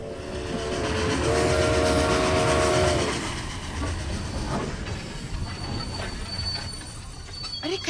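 A train slows to a stop, its wheels squealing in a long sustained metallic screech that fades after a few seconds into rumbling and clanking carriage noise.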